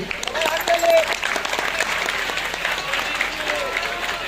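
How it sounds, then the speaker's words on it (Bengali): A college freshers' event audience gives steady, full applause to welcome a guest. Dense clapping runs throughout, with crowd voices mixed in. "সবার একটা হাততালি।"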